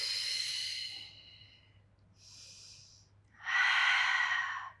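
Pilates instructor breathing in and out through a spine mobility exercise, three breathy hisses of air, with the last exhale the loudest and longest, close and without talk.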